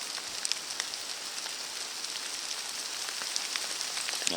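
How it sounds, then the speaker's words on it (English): Hail and rain falling in a mountain thunderstorm on a backpacking trail in Yoho National Park, a steady hiss of patter with scattered sharper ticks of hailstones, fairly faint and even, with no talking. "it seems to be like a clap of thunder and then hail"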